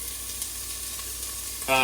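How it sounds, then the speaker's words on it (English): Onions sizzle and fry in a pan with a steady, close hiss. Near the end a louder tone cuts in. "dump your onions in there. That's a nice sizzle."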